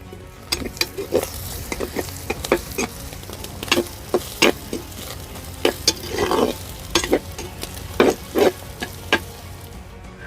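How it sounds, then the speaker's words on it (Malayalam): Curry leaves, ginger, green chilli and garlic frying in hot oil, giving a continuous close sizzle broken by frequent sharp crackles and the scrape of stirring, with no talk. "ഒരു 2-3 തണ്ട് കരിവേപ്പില ഇട്ടിരിക്കുകയാണ്. നമ്മുടെ ഈ ഇട്ടിരിക്കുന്ന ഇഞ്ചിയും പച്ചമുളകും വെളുത്തുള്ളിയും"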